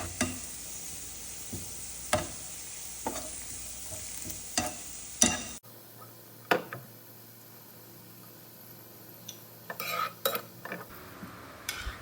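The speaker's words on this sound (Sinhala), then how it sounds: "මෙන්න මේ වගේ දුමුරු පාටට ආවට පස්සේ මම මේ ටික ලිපෙන් අයින් කරගන්නවා." Onions fry in a pan until brown for a canned salmon sambol, with a steady sizzle and sharp clinks of a spoon stirring against the metal. No one speaks.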